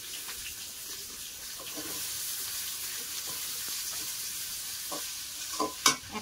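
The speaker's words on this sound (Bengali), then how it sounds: "পেঁয়াজ আর আলু একসঙ্গে ভেজে নেব।" Small pieces of potato and onion fry together in oil, giving a constant soft sizzle and crackle up close, with a few louder clatters of a spatula against the pan at the end.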